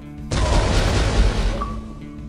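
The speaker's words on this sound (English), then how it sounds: "Chain explosion." A chain explosion in a cowboy video game: one sudden loud blast that rolls on as a thick, rumbling roar for about a second and a half, then fades.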